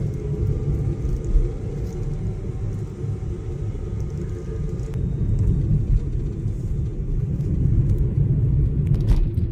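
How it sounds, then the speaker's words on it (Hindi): Steady low road rumble from two-wheelers and four-wheeler cars passing on a quiet road near Khekranala Dam, continuous and moderately loud with gentle swells as vehicles come and go, no talking. "टू व्हीलर वाले आ रहे हैं, गाड़ी वाले फोर व्हीलर आना जाना कर रहे हैं।"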